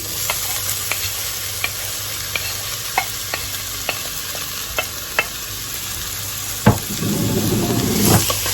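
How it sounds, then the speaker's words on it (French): Sliced onions cooking in butter in a pan for onion soup, a constant close sizzle broken by scattered light utensil taps, with a louder clatter and stronger frying near the end. "Je mets 50 g de beurre, mes oignons,"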